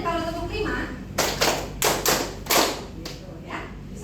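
A lecture audience claps together in a counted pattern, several crisp hand claps in short groups with a speaking voice before them.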